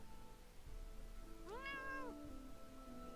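A stray cat in the Dwarf Fortress video game gives a single drawn-out meow in the middle of the clip, clear and tonal over a steady low background hum.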